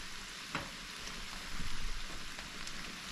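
Okra frying in a large pan gives a steady, soft sizzle with a crackling hiss that swells slightly midway, running alone with no talk.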